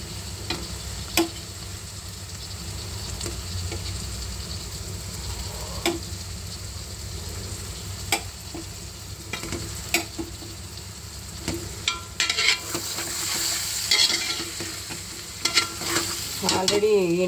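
Eggs go into a pan of frying onion curry, giving a steady low sizzle with scattered close clicks and scrapes from stirring, growing busier toward the end.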